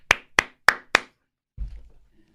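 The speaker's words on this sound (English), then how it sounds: "Staffers clap." Staff members clap in four sharp, evenly spaced strikes close by, followed by a brief low thump.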